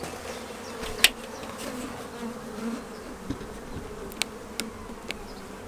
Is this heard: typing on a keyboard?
no